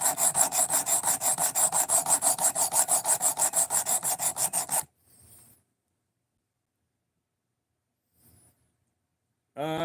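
A knife is sharpened on a stone, with rapid rhythmic rasping strokes for about five seconds, then near silence with a faint brief scrape and a burst of strokes at the end.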